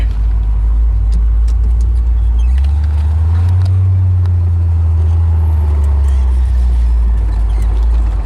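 A 1968 Corvette 427 big-block convertible rumbles steadily with deep low drone and road noise, the pitch swelling slightly mid-drive as it cruises along.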